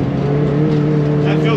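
A Peugeot 206 race car engine drones loudly and steadily under acceleration from inside the cabin, a strained constant tone throughout.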